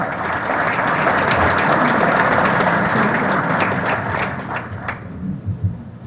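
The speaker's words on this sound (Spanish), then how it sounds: "Aplausos para él." Loud, sustained applause from an audience in an auditorium welcoming a speaker, a dense roar of clapping that fades out toward the end.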